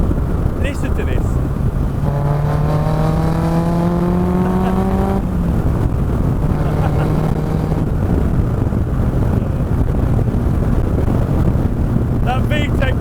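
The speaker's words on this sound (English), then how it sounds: "That V-Tech noise is like nothing else." An MK Indy RX-5 with a Honda K20 VTEC engine revving on a test drive, its rising engine note climbing in pitch then dropping back, heard from onboard with heavy wind noise throughout.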